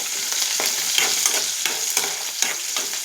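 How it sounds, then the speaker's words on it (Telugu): Steady sizzle of curry leaves frying in a pan, with rhythmic scraping strokes of a spoon stirring every half second or so, close and clear. "కొంచెం కరివేపాకు కూడా వేసుకొని ఫ్రై చేసుకుందాం."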